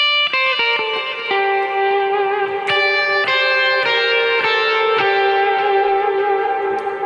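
A clean electric guitar set to a heavy reverb swell patch plays sustained notes and chords. Each attack blooms into a long, shimmering wash that rings on loudly with no talk.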